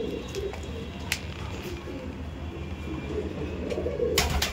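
Madras pigeons coo softly in a loft, a low murmur of several birds under steady background noise, with a few faint sharper noises scattered through.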